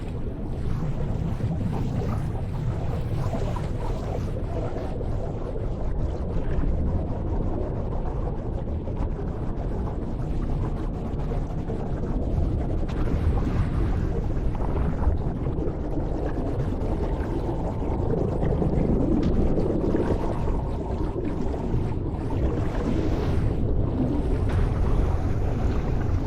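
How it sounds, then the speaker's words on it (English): A dense, continuous rush of muffled water and low churning noise, steady and enveloping, with no voices. "Since it's an underwater sound, it makes much sense to have this type of movement."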